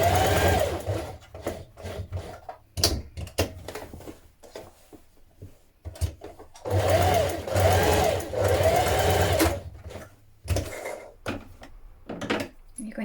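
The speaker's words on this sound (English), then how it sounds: "Now I'm going to stitch on them." A sewing machine stitches dart lines on winter coat fabric in short bursts of rapid mechanical whirring, separated by brief pauses and soft handling sounds, close and moderately loud.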